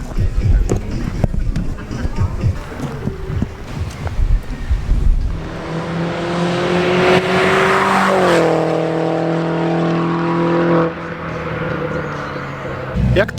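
A BMW Z4 engine drones loudly with strong harmonic tones that rise and shift as it revs, under some earlier background talk and rattles.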